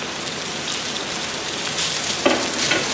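Meat frying in a pan until its liquid cooks off, with scallions then added; a steady broadband sizzle and crackle runs close and continuous throughout, growing slightly busier near the end.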